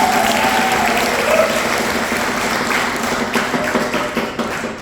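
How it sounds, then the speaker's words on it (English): A crowd at a live bluegrass camp concert gives loud, sustained applause for the Dobro player, dense clapping that slowly thins toward the end. "Give her a nice round of applause."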